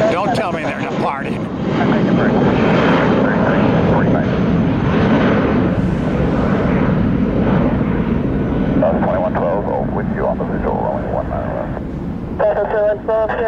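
United Boeing 757 airliner taking off at Tampa, a loud, deep jet roar swelling and sustained as it climbs, with people talking over it in places.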